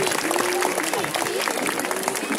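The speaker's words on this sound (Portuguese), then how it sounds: "Pessoal, mais uma vez, salva de palmas." An audience applauds a contestant at an adult cosplay contest during a Bon Odori festival in São Bernardo do Campo, with thick, continuous clapping throughout and a voice talking over it.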